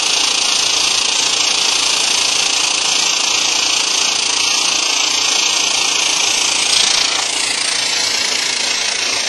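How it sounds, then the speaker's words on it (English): Sun Valley Portawelder laying a weld on a ski base, a steady loud hiss and buzz that continues almost unbroken, heard up close with no talk. "hold your welder at 45 degrees to the anchor weld"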